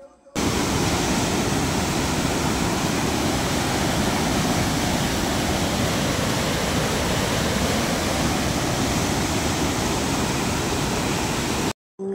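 Water torrent gushing through an open gate of the Gajoldoba barrage: a loud, continuous, broadband roar that holds steady for the whole stretch before cutting off abruptly.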